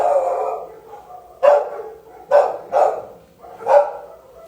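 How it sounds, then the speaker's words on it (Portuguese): Dogs out in the street bark loudly and repeatedly, four or five sharp barks spaced about a second apart, fairly near and with nothing else over them. "cachorro bem louco aqui na rua"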